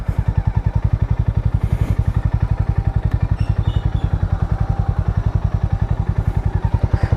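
A Harley-Davidson X440 motorcycle being ridden and turned, its single-cylinder engine thumping in a loud, fast, even pulse close by, with light clatter over the top and no talk.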